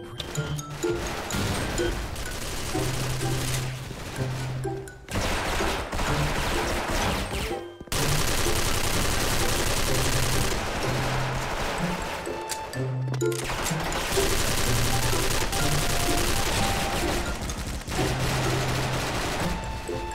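Automatic fire from a Frankenstein XM8 rifle in the Special Force shooter game rattles out in long, loud, dense bursts, broken by a few brief pauses over about twenty seconds.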